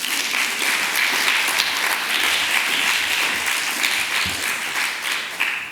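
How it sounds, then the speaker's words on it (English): Conference audience at an ocean discovery event gives panelists a sustained round of applause, dense steady clapping filling the room with no speech over it. "Let's give them one more round of applause."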